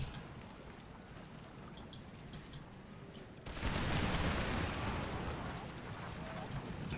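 Artillery fire in the video game Empire: Total War: battle noise rises into a louder, sustained barrage of booming cannon shots about halfway through, with scattered distant reports before and after.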